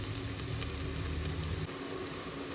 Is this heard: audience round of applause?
no